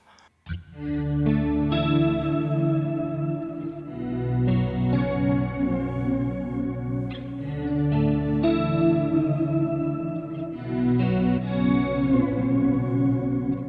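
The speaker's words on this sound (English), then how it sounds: "Doesn't sound fancy, but with a delay and a little bit of reverb." Electric guitar through a Kemper Profiler with delay and reverb, sustained chords ringing out with echoing repeats and a lush, washed tail, played clearly and alone.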